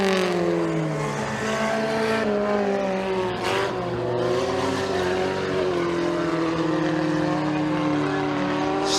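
Kids mini stock race cars at McKean County Raceway, a dirt track feature, roar by with steady, loud engine drone whose pitch rises and falls as the cars accelerate down the back straightaway.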